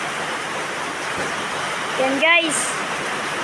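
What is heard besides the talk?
heavy rain falling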